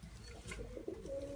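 A pet pigeon or dove gives a soft, low cooing call close by, a steady throaty murmur lasting just over a second with no talk over it.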